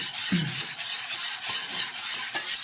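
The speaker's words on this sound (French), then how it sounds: "Et on va jamais arrêter de remuer." A spoon steadily stirs butter into lemon curd in a pan, producing a continuous soft rubbing and scraping hiss with faint sizzle and occasional knocks against the pan.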